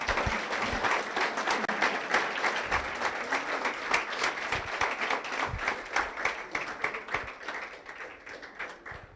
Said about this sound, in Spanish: ¿Cuántos pueden dar un aplauso al Rey?